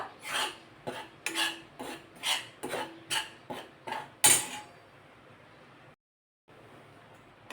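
Wheat flour being roasted and stirred in a pan for laddoos, heard as a regular series of scraping strokes, about one per half second, then fading to quiet.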